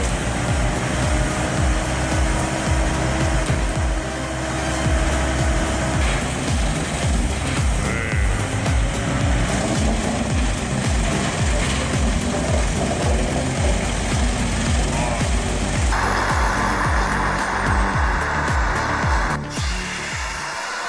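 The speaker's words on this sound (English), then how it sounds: "The Vermeer Beck 2000 brush chipper is a powerhouse, boasting a 99 horsepower engine and a 20-inch cutting capacity." A Vermeer Beck 2000 brush chipper with a 99 horsepower engine runs loud and steady, a continuous close mechanical roar with rapid chopping pulses throughout and a brief dip near the end.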